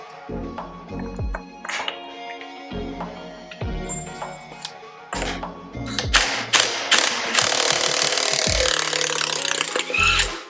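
An impact wrench works on a nut of a Harley Davidson FXR during a chain conversion, firing several short ratcheting bursts between pauses and then a longer, louder hammering run.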